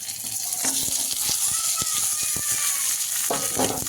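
Nigella seeds, green chilies and fried eggplant sizzle in a hot pan with a constant crackling hiss, punctuated by close spatula taps and scrapes of stirring.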